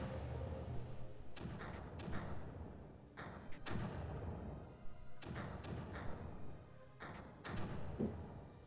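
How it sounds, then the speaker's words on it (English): Mortars in the Creeper World strategy game fire and land in repeated dull thumps, several impacts spaced irregularly over a dense, steady game background, with no talking. "So I've got lots of mortars, just kind of pounding on them to keep them clean"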